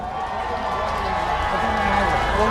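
A crowd at an outdoor election rally for a district mayor candidate keeps up steady, loud, dense cheering and applause, mixed with a voice over the sound system.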